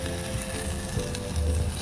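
A pan of egg, masoor lentils, tomato and onion sizzles and fries steadily, a soft continuous crackle with no voices over it.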